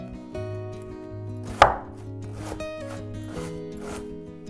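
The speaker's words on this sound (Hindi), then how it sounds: "तो अब पत्ता गोभी को काट लेते हैं, हाफ कर लेते हैं, फिर और हाफ कर लेते हैं" A knife cuts through a halved, then quartered cabbage with one sharp, loud chop and a few softer cuts, under steady background music.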